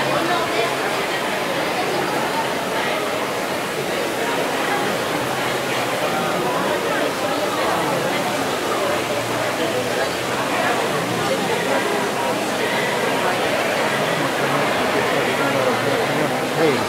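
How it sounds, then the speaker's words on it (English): Steady rushing water flows continuously, with murmuring voices mixed into the broadband wash. "It's a perfect stream."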